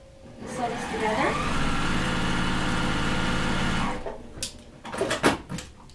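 A sewing machine runs steadily for about four seconds, stitching quilt fabric pieces for a Court House Steps block, then stops. Brief handling clatter follows.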